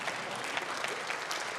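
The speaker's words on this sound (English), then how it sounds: "You're supposed to cheer at this point." An audience at a Conservative party conference breaks into brief applause, a dense patter of hand claps from a large hall, steady and moderately loud.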